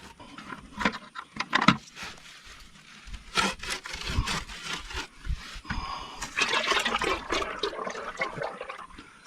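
Fluid from a Kubota MX6000 tractor drains into a bucket, an uneven splashing and gurgling pour at close range with rustling handling noises, fairly quiet.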